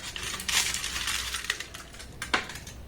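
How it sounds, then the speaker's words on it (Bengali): Foil paper being wrapped over the mouths of kulfi moulds, close crinkling rustles with a few sharper crackles. "ফয়েল পেপার দিয়ে এগুলোর মুখ আমি এইভাবে মুড়ে দেবো।"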